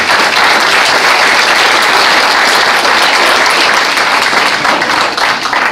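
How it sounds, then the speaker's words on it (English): A dense, loud round of applause fills a retirement ceremony hall, sustained evenly from start to finish with a large crowd clapping together and no pauses. "Give yourselves a round of applause."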